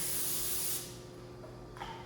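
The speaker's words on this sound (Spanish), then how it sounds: "aquí lo voy a engrasar un poquito con este spray en aceite" Cooking oil spray misted onto a springform cake pan in a kitchen: one steady hiss lasting under a second, close and fairly loud, followed by quiet room tone and a faint clink.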